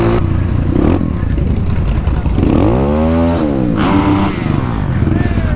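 Dirt bike engines revving close by while riding at a mud bash event, loud throttle surges rising and falling, including one sharp sweeping rev pass.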